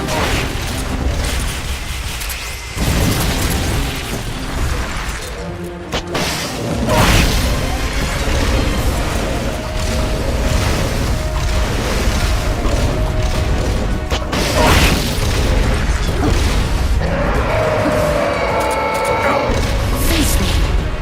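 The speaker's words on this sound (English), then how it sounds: "Firing rocket launcher. Firing rocket launcher." Metal Gear Solid: Peace Walker battle din with loud heavy booms and crashes from rocket launcher fire and explosions over constant rumbling machinery, dense and close throughout.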